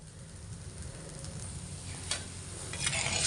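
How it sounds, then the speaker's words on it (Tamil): Tamarind water bubbles and sizzles steadily as it boils in a pan close by, with a few soft clinks of a utensil. "புளி தண்ணி இந்தளவுக்கு கொதிச்சிருச்சு."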